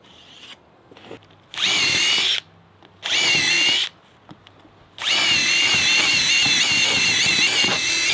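A power drill whirs loudly in three bursts while drilling holes in deck boards, two short ones followed by a longer sustained run, close by with quiet pauses between.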